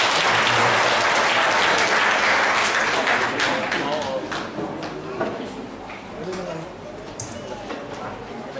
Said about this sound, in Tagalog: Isa pong malakas na palakpak para sa mga ito.